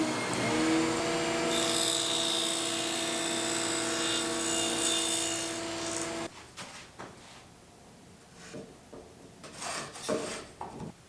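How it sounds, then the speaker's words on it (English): A Freud SD208S dado stack whines loudly as it cuts a 1/2 inch channel through lumber for about six seconds, then spins down, followed by scattered rubbing and handling noises. "basically what I'm going to do is just run that 1/2 inch channel through and see if the plywood fits or how it fits"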